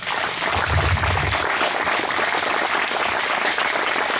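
An audience claps loudly and steadily at a 60th anniversary homily in a church, a dense, continuous applause that fills the space with no voices standing out.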